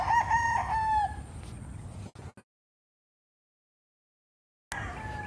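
Gamecock stags, national banded, crow loudly in a harmonic rising-falling call near the start, with barnyard noise, a break of silence, then more farm ambience.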